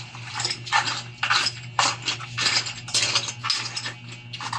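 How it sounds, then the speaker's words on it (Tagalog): A wooden spoon stirs sauce in a pot, scraping and clinking in a steady rhythm of repeated strokes, moderately close, with no talking. "Kailangan ng kutsara at kutsara ng kahoy. Mix para makuha na ng ating sauce."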